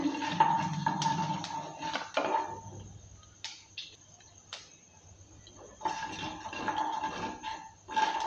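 A spatula stirs black cumin seeds in hot mustard oil in a pan, giving scattered metallic scrapes and clinks over a faint, steady sizzle, fairly close and with no voices.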